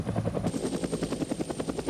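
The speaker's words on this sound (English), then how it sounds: "The Sea Cobra is a Marine variant of the AH-1 Cobra and forms the backbone of Marine attack helicopter units." An AH-1 Sea Cobra attack helicopter, the Marine variant of the Cobra, flies by with a loud, steady rotor chop beating in an even rhythm, heard alone.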